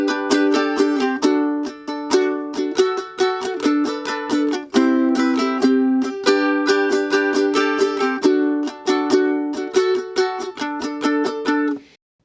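A ukulele strums the chorus of a song with a steady, busy rhythm of bright chords and a brief change partway through, close and solo with no voices, stopping abruptly at the end.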